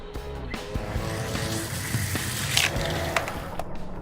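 Hot Wheels toy cars racing down a track at a park, a continuous rolling rumble of small plastic wheels with rattling clicks and a few sharp ticks, close and moderately loud.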